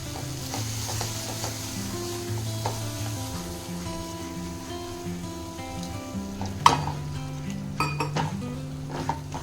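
Dhaba-style butter paneer gravy with kasuri methi is stirred in a pan, with a spoon scraping and clinking against the metal over a continuous soft sizzle. The strokes are close and irregular, with one sharper knock.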